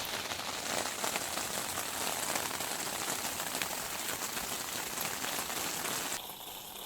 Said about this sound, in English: Yep, then it rained.